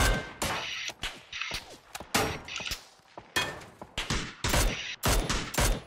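Bursts of gunfire in the video game PUBG Battlegrounds ring out in a rapid, irregular string of loud, sharp shots and volleys, some clustered tightly, others separated by brief pauses, across the whole stretch with no talk.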